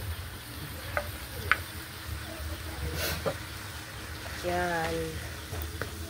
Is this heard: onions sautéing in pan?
yes